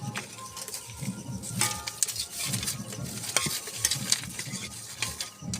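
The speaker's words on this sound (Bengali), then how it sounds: "এগুলো সব দিয়ে দিই দিয়ে একটু ভালো করে নেড়ে দিই" Peanuts and peas are stirred in a frying pan, with a spatula scraping and rattling the pieces in repeated strokes over a soft sizzle, with occasional clinks of metal, close and without talk.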